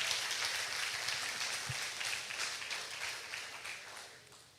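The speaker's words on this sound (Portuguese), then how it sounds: "Se quiser aplaudir, pode aplaudir" A church congregation applauds during a service, a steady wash of many hands clapping at moderate distance that holds for several seconds and eases slightly toward the end.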